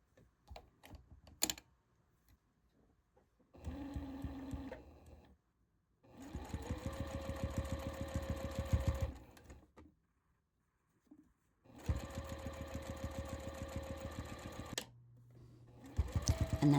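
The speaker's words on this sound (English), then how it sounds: "I'm going to machine sew along this edge," Sewing machine stitching close along the edge of a tote bag strap in three separate steady bursts with short pauses between them, close and fairly quiet, with no talking.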